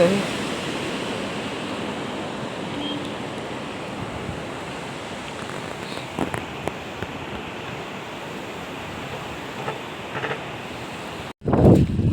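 Flooded river water rushing past, a dense, continuous roar heard close and steady, broken by a short burst of louder noise near the end.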